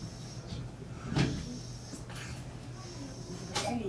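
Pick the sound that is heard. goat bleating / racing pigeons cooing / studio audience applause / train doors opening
train doors opening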